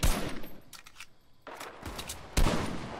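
Gunfire in Fortnite Battle Royale, with bursts of rapid shots at the start and again near the middle, then a sharp close burst toward the end, separated by quieter gaps.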